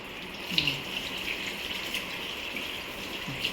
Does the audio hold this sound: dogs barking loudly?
no